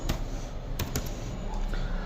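Keys clatter briefly on a computer keyboard as a URL path is typed, giving a few quick close taps over a quiet room hum.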